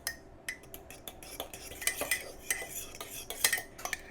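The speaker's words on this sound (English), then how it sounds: "let me grab a different fork so I can stir this, make sure my butter's all nice and melted" A fork clinks and scrapes steadily against a dish while melted butter is stirred for a creamy sausage casserole, with repeated close metallic taps and no talking.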